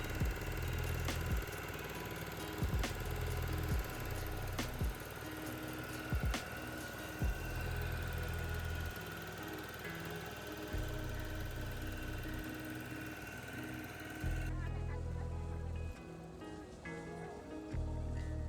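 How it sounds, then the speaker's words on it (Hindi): A boat engine runs steadily through a ride at Puri, Odisha, as a loud low drone with a throbbing rumble and occasional sharp knocks, easing off toward the end. "फिर हम निकल पड़ते हैं अपनी बोट राइड पर।"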